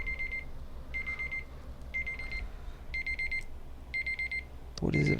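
An alarm clock rings in five evenly spaced bursts of bright electronic beeping, each about half a second long and separated by brief pauses. A short louder thump lands at the very end.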